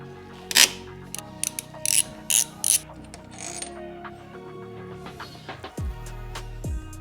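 A ratchet removes bolts to fit an Evotech frame slider bracket on a 2022 BMW S1000R motorcycle, giving short bursts of close, dry mechanical clicking separated by brief pauses, with some handling clunks of metal parts.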